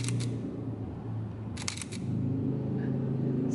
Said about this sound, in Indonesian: Kita perhatikan ketika shutter speed-nya bekerja.